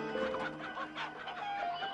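Chickens cluck in a short, close burst of choppy fowl calls with no talking.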